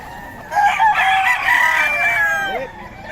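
A young gamecock stag crowing at a Bocaue market, one clear, loud crow lasting a couple of seconds, close by over faint background murmur.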